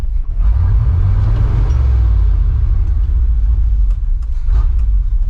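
A 1989 Chevy 1500 4x4 truck engine, started on a cold day, runs with a loud, steady low rumble close by, a slight rise in revs early, then settling to an even idle, with no talking.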